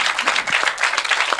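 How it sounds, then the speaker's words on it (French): Audience applause at a French political conference on strategy in the Sahel: a short burst of dense, steady clapping from a crowd, fairly close and continuous, with no talking over it. "Oui, vous avez le droit de les applaudir"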